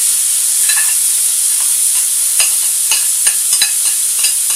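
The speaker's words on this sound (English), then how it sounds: "You get the veg a good frying, because it's frozen." Frozen mixed vegetables fry in oil in a frying pan, a loud, steady close-up sizzle and hiss with occasional crackles and stirring scrapes throughout, no voices.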